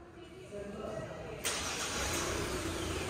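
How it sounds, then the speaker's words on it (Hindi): A 2024 Kia Sonet GT Line facelift is remote-started by holding the key fob button: a low background hum, then midway the engine abruptly catches and settles into a steady, fuller idle. "इसे होल्ड रखते हो तो आपका इंजन हो जाता है स्टार्ट"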